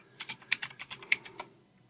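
Rapid keystrokes on a computer keyboard as a PowerShell command is typed, about a dozen crisp clicks in an irregular burst over a second and a half, fairly close and alone before fading to quiet.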